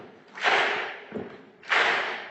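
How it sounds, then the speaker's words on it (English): Hands clapping along in time at a festival talk, three separate claps spaced about a second apart, fairly near and moderate in loudness, no talking. "Keep clapping."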